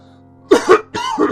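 Two short bursts of close, harsh coughing in quick succession, each with a couple of hacking pulses.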